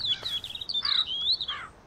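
Birds chirp in short, bright bursts inside Demolish & Build 3, a steady run of tweets and trills lasting under two seconds, fairly loud and with no other sounds layered over them.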